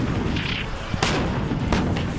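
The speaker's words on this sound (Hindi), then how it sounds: "ये बारूदी विध्वंसक और विस्फोटक तस्वीर है अमेरिका और रोमानिया की मिलिट्री ड्रिल की" Booming artillery fire and explosions at a joint US and Romanian military drill, with dense rumbling blasts and two sharp loud bursts near one and 1.7 seconds over continuous heavy background roar.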